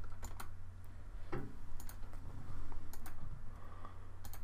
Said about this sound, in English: hit backspace and click along the top of this a couple of times